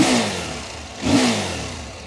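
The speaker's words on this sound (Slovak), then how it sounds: "ten si naštartujeme, lebo to musíte jednoducho počuť." A 2022 CFMOTO 800MT Touring adventure motorcycle engine fires up: a rising rev burst around the midpoint, then settling into a steady idle rumble with a slight mechanical clatter, close and fairly loud.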